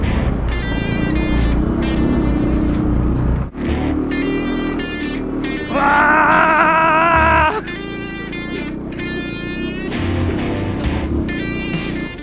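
A cheap small Walmart lawn tractor drives off-road under its own weight, its engine droning and straining close up, rising into a loud whining surge midway, with squeaky high-pitched chirps and brief pauses between bursts.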